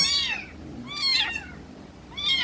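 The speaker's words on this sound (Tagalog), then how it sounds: "Si Pel ay stray cat na nangangagat." Stray cat meowing close by, three distinct high, drawn-out meows spaced across a couple of seconds against a quiet background.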